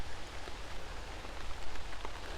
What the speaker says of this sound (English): the rain started early.